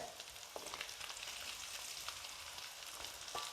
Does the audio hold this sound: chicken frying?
yes